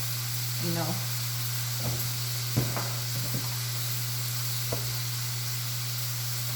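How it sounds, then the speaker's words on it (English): Steak and vegetables sizzle steadily in a hot pan under a constant electrical hum, with a few scraping clicks and knocks as the pan is stirred. "I'm going to give this a little bit of a stir"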